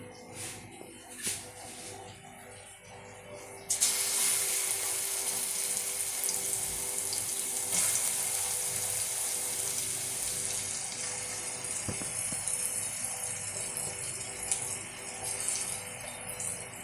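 Crushed spices hit hot coconut oil for a carrot chicken perattu, and a loud hissing sizzle bursts in abruptly after a few seconds of quiet. The sizzle then holds steady, fading only slightly.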